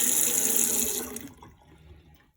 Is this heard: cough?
no